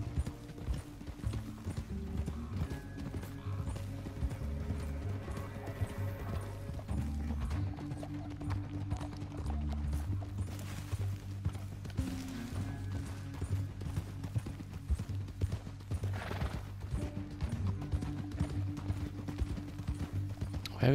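Horse hooves clip-clop in a steady walking rhythm throughout a Red Dead Redemption 2 game scene, moderately close, with occasional soft snorts and faint background tones.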